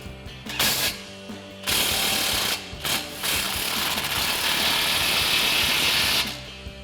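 Socket ratchet tightening an exhaust clamp on a Ford F-150 EcoBoost during a dual exhaust install: close, loud, rapid ratcheting clicks in steady runs with a few short pauses between strokes.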